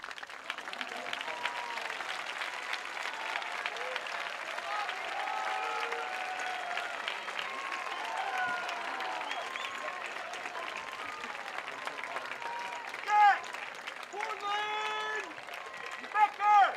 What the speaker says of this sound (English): Students, could you please stand and give them a round of applause?